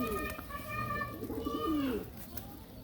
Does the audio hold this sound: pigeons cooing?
yes